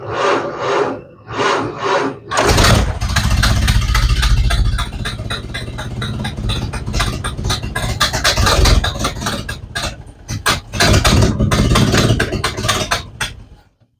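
A Model A Ford that sat about four months starts cold: brief starter cranking, then the engine catches and runs loud and rough close by, with a short stumble before settling into a steady clatter.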